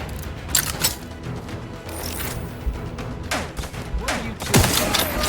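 Several revolver shots crack out in The Outer Worlds 2 amid game sounds, sharp bursts spaced irregularly over a few seconds with thuds and impacts between them.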